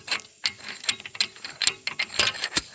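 A ratchet works loose rusty, tight rear brake bolts on a 2014 Kia Sorento, with quick repeated clicking strokes in an uneven rhythm, close and fairly loud.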